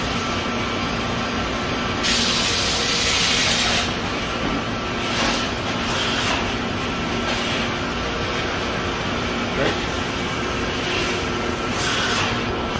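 A Brother TC-22B-0 drilling and tapping center runs in a workshop, giving off a steady broadband machine whir with repeated bursts of hissing, spray-like sound that come and go over the run.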